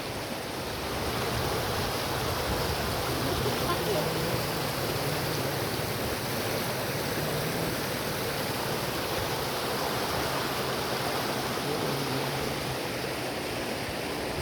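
Water of the Sangavadi river flowing steadily near Bhiyal village, a loud, continuous broadband rush like a cascade that holds at the same level throughout, with no voices.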